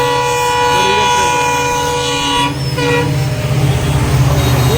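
A loud train passes close by at a level crossing people walk across, its horn sounding in long steady tones over the heavy rumble and clatter of the cars.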